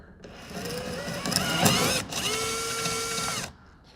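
A power drill with a 1/2 inch bit bores slowly through a composite rear body panel on an Aston Martin DB9, giving a close, steady whining drone of about three seconds with a brief surge in the middle.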